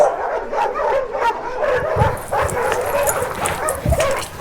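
Dogs at an animal shelter bark, yip and whimper in repeated short bursts, several voices overlapping at close to mid distance with no talking.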